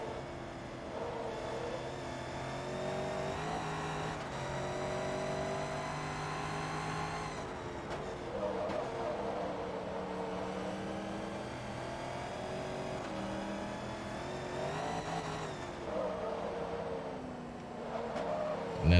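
Corvette race cars in a Forza Motorsport 2 touring cup race give a continuous, loud engine drone, rising and falling through gear changes as they accelerate and brake, with no talking.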